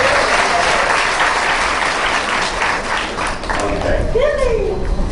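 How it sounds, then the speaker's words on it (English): Audience applause at a cut and color hair show, a loud steady wash of clapping from the crowd with voices and a cheer or whoop rising near the end. "You could clap a bit more than that."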